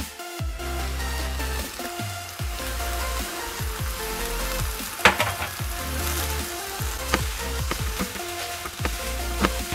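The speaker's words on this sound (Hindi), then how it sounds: "इसे भी हम इसमें डाल करके साथ साथ भून लेंगे।" Chopped paneer cottage cheese fries with cherry tomatoes in a pan, giving a steady close sizzle with occasional stirring clatters and pops throughout, no talking.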